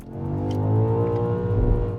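The 4.4-litre V8 of a BMW XM revs hard and climbs in pitch, loud and close, with a rich layered growl and no voices.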